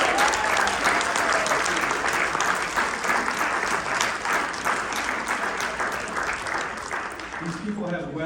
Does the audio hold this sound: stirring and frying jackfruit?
no